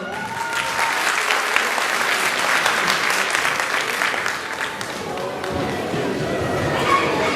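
A roomful of people applauds warmly, clapping dense and sustained, with some chatter and a few thuds mixed in as it tapers slightly.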